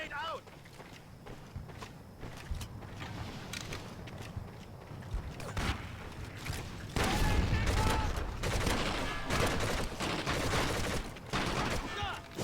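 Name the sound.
grenade explosion and gunfire in video game Medal of Honor: Heroes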